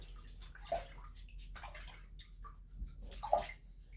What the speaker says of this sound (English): Now go into that dirty water.